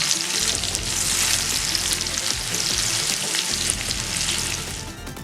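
Chicken for shawarma frying in a pan while it is turned. A loud, dense sizzle runs throughout with light scraping of stirring, and there is no talking.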